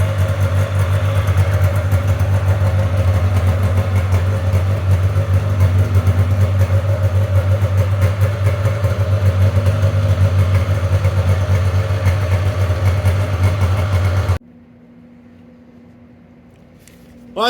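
A 1996 Polaris Classic Touring snowmobile idles loud and near with a rough, uneven low drone, not sounding like a triple, then cuts off abruptly, leaving near silence; someone speaks over the running engine.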